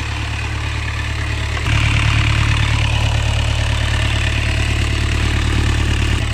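Sailboat diesel engine idling on a boat named Mahina, a loud, steady low throbbing rumble with a regular pulsing beat that steps up in intensity after the first couple of seconds and holds evenly, with no talking.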